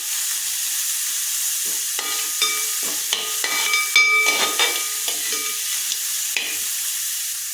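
Ragi mixture stirred as it cooks in a pan, a series of scraping and tapping strokes against the pan over a quiet steamy hiss.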